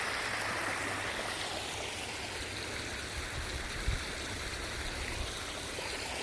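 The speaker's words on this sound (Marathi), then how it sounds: "हा रोज रोज रोज असा पाणी सोडला जातो" Chemical wastewater from an industrial estate pours steadily into a public drain, a continuous loud rushing flow like a stream with no breaks or voices.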